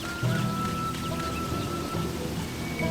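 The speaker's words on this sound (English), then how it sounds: "I guess I don't have to worry about the rain." Continuous in-game rain from Sakuna: Of Rice and Ruin, a dense, steady patter with a faint rumble and a soft tonal hum beneath, constant throughout and without speech.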